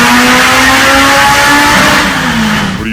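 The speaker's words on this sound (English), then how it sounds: "we got this 8-second drag Evo. This thing's about to tear it up on the streets out here in Mexico" A Mitsubishi Evo VIII eight-second drag car engine revving loudly and close, its roar climbing and holding before easing off, on a street in Mexico.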